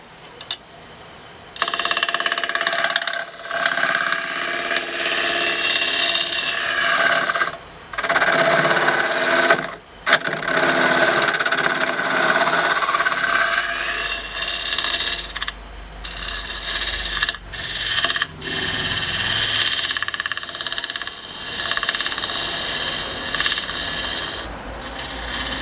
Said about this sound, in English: Lower our tool rest a little bit, and we're just going to do some scraping.